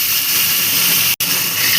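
Remaining fish pieces frying in a hot pan for a Bengali vegetarian-style fish recipe, giving a steady, close, even sizzling hiss that cuts out for an instant midway before resuming.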